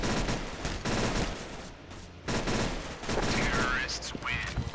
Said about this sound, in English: do a little jump shooting here as they try and pick me